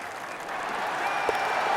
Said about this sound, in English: Crowd goes wild after that eagle.